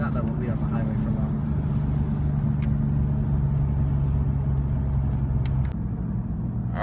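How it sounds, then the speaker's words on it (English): A BMW M3 F80 ZCP being driven with gear changes, its engine giving a steady loud droning rumble from inside the cabin that shifts in pitch near the end. "I'm just changing gears to move the revs around a little bit."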